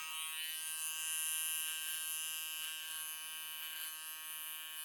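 Electric hair clippers buzz steadily and close up throughout a mid skin fade haircut, one continuous motor whine with a slight swell partway through and no talking.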